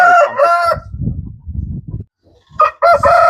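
An Aseel rooster crows loudly and close, with one full crow at the start and another at the end, separated by low muffled rustling and a short silence.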